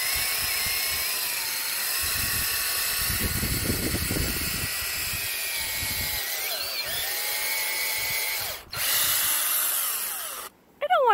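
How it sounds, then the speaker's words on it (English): A power drill whines steadily, bogging down as it bites into the wood of a maple tree, with rough grinding bursts, then stops and briefly restarts at the end. "Then I'm going to put the drill at an angle like this and drill into the tree."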